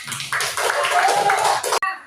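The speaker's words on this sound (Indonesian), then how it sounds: "Oke, tepuk tangan." A school class claps together at the end of a presentation lesson, a dense burst of hand clapping lasting under two seconds and mixed with voices, then cut off abruptly.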